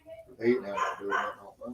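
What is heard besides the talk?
dogs barking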